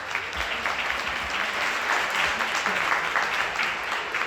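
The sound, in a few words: applause for co-founder Janice Carter Miller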